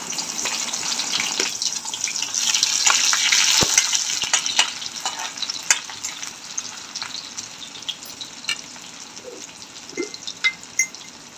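Chopped onion sizzles steadily in hot oil in a pan while making karela bhaji, a bitter gourd dish. The frying hiss is continuous and fairly close, with a few faint clicks and crackles scattered through it.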